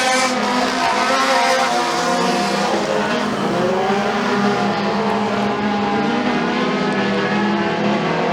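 Race cars in a heat at McKean County Raceway, several engines roaring and revving together with shifting pitch as they sweep off a turn down the straightaway, loud and sustained.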